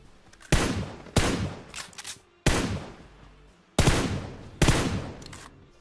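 Five sharp gunshots ring out from the PUBG battle royale game, spaced unevenly about a second apart, each loud and close with a long decaying echo.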